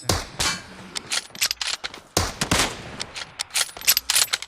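Gunfire rings out in the PUBG Mobile battle game, with rapid bursts and single shots cracking in quick, loud clusters, some near and some a little farther away.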